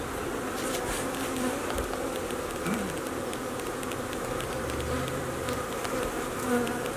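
Honey bees hum steadily during a hive removal from a ceiling, the swarm a dense, even drone filling the whole stretch at moderate level with no talk.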